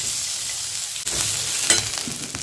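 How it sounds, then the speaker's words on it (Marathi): Onion frying with asafoetida in a home kitchen pan gives a steady, close sizzle and crackle, with a short stir or scrape partway through and no talking. "हिंग पावडर कांदा छान भाजून घेऊया"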